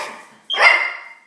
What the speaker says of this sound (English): They don't want a bunch of yapping puppies.